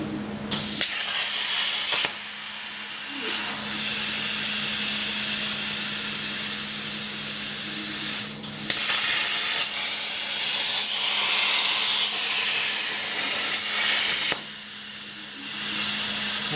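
Arcdroid CNC plasma torch cutting two circles in a steel washer, a loud continuous roaring hiss with a steady hum underneath, broken by brief dips near two, eight and fourteen seconds.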